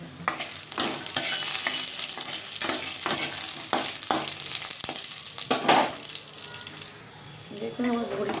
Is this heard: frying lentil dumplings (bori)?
yes